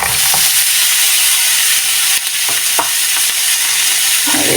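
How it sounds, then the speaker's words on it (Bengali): A medium-sized chopped onion drops into hot oil left from frying dried red chilies for a chili bhorta. It gives a loud, dense, continuous sizzle with a few faint stirring scrapes, close and without talking. "এখন এখানে দিয়ে দেব মিডিয়াম সাইজের একটা পেঁয়াজ কুচি।"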